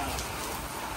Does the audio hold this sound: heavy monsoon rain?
yes